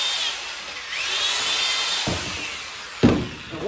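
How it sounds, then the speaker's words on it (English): A 5/16-inch electric drill whines at high pitch boring into a foam-filled mower tire, changing tone as it works, with a couple of sharp clunks near the end. "This is a 5/16 drill."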